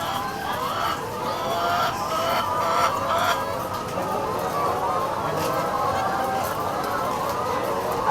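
Chickens cluck steadily throughout a poultry farm shed, a dense and continuous flock chatter at moderate loudness with a few sharper calls standing out, while a person talks faintly in the background.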